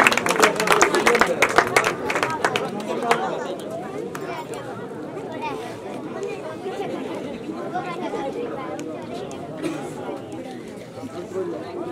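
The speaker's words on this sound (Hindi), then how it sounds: "इनका भी जोरदार तालियों से अभिनंदन कीजिए।" Crowd applause at a ceremony honouring a 19-year-old dragon boat gold and silver medal winner, with dense clapping over the first few seconds that gives way to steady crowd chatter.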